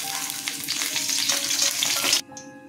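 Bay leaf and dried red chilli crackle loudly in hot oil for about two seconds, a dense continuous sizzle that cuts off abruptly, leaving a faint quieter hiss.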